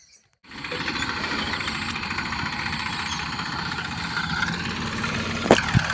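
A farm tractor engine starts up and runs steadily near the field, a dense continuous rumble with a rough knocking texture and a couple of sharp clanks toward the end.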